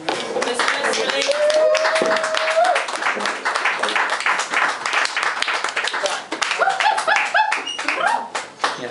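Audience at an open mic in Paris clapping for the evening's photographer, dense applause that keeps going and then thins into scattered claps, with voices and laughter mixed in.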